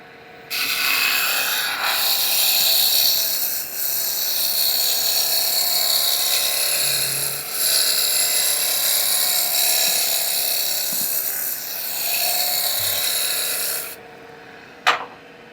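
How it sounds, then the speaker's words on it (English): A roughing gouge cuts wood turning on a lathe, a loud, steady rasping and scraping that runs nearly continuously for about thirteen seconds with brief dips, then stops and ends with a single knock. "I could also just kind of sneak up on that diameter using the roughing gouge as well"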